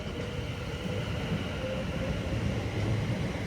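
A Class 701 Arterio electric train departs Clapham Junction toward London Waterloo, a steady rolling rumble and faint hum that stays continuous and moderately loud, with no talking.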